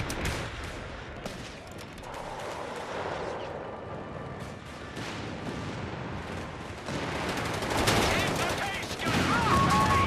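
Sustained battlefield gunfire and artillery from a World War II Italy campaign battle in Company of Heroes 3, a dense rumbling barrage with scattered shots that grows louder toward the end, with faint voices underneath.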